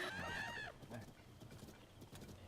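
Horse hooves clip-clop in Zelda: Tears of the Kingdom, a few quick soft hoofbeats heard faintly after a short burst of voice at the start.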